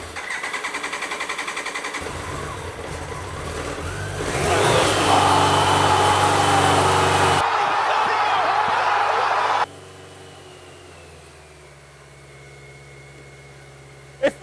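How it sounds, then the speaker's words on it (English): BMW K100 cafe racer motorcycle engine cranking, then catching and running with a rising roar that settles into a steadier idle before cutting to a quieter hum, close and loud, with voices faintly present. "So we're going to get this into the bike, and then fingers crossed it's going to start."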